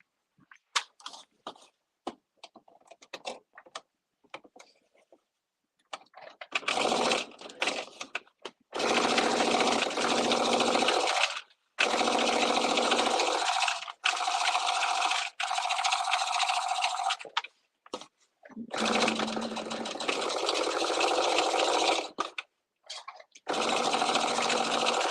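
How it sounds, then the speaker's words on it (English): A sewing machine topstitches a seam on a sew-along garment for pattern S9920, running in several sustained bursts of steady stitching separated by brief pauses, with some lighter handling clicks near the start. "Now I'm going to top stitch this seam out of the way"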